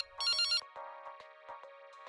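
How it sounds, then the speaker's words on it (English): A phone ringtone in a video game trills loudly in one bright burst, then gives way to softer repeating tonal chimes with rhythmic clicks. "My phone rings?"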